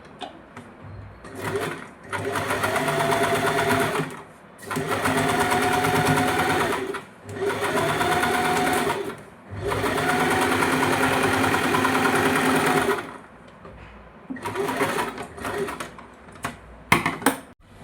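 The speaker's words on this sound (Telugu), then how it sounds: "ఇలా స్టిచ్ చేసుకున్న దాన్ని ఇలా స్ట్రైట్గా చేసుకొని కుట్టు వేసుకోవాలి" A sewing machine stitches a plain blouse in several rapid runs of a few seconds each, separated by short pauses, loud and close, with a quieter burst of stitching near the end.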